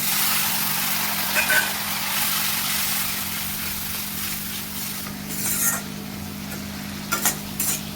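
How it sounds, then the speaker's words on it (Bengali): Water hits frying turmeric and spices in a pan for Bengali chicken kosha, giving a steady hiss and sizzle with a few soft stirring scrapes. "এর মধ্যে একটু এবার জল দিয়ে দেব।"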